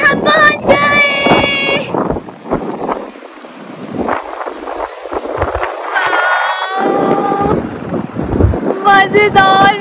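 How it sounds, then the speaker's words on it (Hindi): Strong wind blows sand around at Rohtang Pass, buffeting the microphone with a loud rushing roar while people talk over it. "यहाँ पे बहुत ज्यादा हवा चल रही है और ये रेत भी उड़ी है बीच बीच में।"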